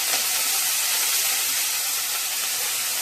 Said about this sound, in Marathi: आता आपण अळू फोडणीला टाकणार आहोत